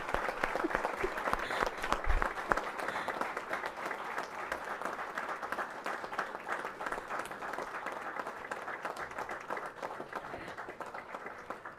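An audience at an inauguration event at the India International Centre in Delhi claps in sustained, even applause. The clapping stays at a moderate distance and holds steady throughout with no voices on top.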